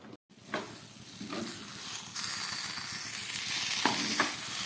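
Spinach curry with tomato simmers covered on a gas flame turned down very low, giving a steady soft sizzle and bubbling hiss with a few light knocks and stirring scrapes, close and continuous, no voices.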